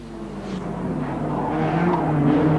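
Touring race cars, among them a BMW 635, roar down the front straight at Wellington in 1987, a steady loud engine drone building slightly as they streak past.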